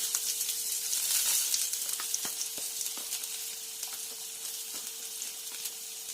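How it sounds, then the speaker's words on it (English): Onions dropped into hot sunflower oil for an okra dish, a loud bright sizzle that settles into steady frying crackle with scattered pops, close up and uninterrupted by speech. "So once the oil is all heated up, you can start putting in some onions."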